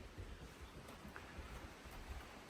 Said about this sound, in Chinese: 昨天晚上一个晚上的狂风暴雨，现在这雨依然没有要停的意思